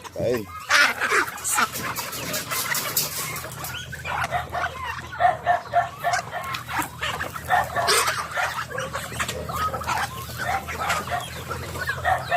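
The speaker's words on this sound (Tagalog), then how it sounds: "ingay ng aso." Dog barks scattered over a noisy yard with squawking fowl and brief voices in the background.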